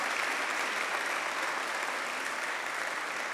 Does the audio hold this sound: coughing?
no